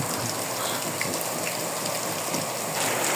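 Wasted water pours down heavily from a leaking source in a neighborhood, making a loud, dense, continuous hiss like a steady downpour of rain, with no voices.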